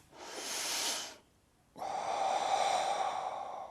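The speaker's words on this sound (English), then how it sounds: "you want to be getting diaphragmatic breathing, instead of from the chest expanding like that" Deep diaphragmatic belly breathing: a long airy inhale, a short pause, then a steady hissing exhale, close and unaccompanied by speech.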